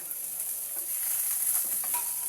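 Food grills in a dry pan with no oil, giving a steady, close sizzle with faint crackles and small stirring noises throughout, no talk.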